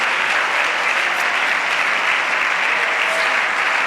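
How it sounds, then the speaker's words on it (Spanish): Steady, dense applause from a church congregation during a Sunday school service, sustained and loud throughout with no breaks. "Aplauda la gloria del Señor Jesucristo."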